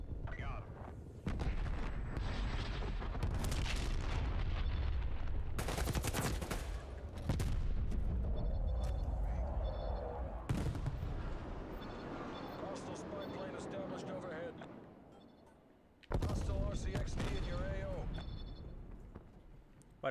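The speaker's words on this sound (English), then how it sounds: "Incoming artillery." Incoming artillery explosions and heavy gunfire in Call of Duty: Black Ops Cold War, loud booming blasts and rattling bursts packed densely across the stretch, with a player talking over the battle.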